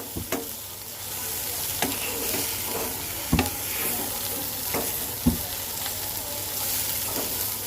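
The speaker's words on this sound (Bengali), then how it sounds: "আমি মশলাটাকে সবজির সাথে মিক্সড করে দেব আর সময় নিয়ে কষাতে হবে" Taro pieces sautéed with spice masala in a pan, a soft continuous sizzle broken by occasional sharp knocks and scrapes of a spoon stirring the mix.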